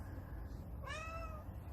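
A pet cat gives a single clear meow, a short rising-then-falling call, close and alone over a low steady hum.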